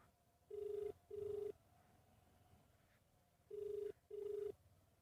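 A telephone rings unanswered in a quiet place, two pairs of short tonal rings with a silent gap between, heard faintly over low background noise.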